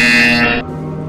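A loud electronic buzzer in the Portal Stories VR video game sounds as one steady harsh tone, cutting off sharply after about half a second and leaving a faint hum.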